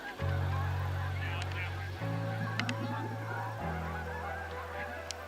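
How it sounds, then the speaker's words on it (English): Geese by a lake give three long, loud, drawn-out honks in sequence, close and clear over faint outdoor background. "you can hear the geese"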